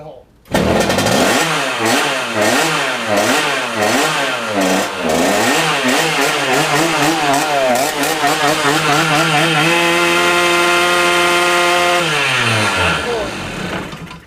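A loud engine revs repeatedly in rising and falling bursts during a clutch test on a vehicle fitted with John Ritchie clutch parts, then settles into a steady high hold before cutting off, with no speech over it.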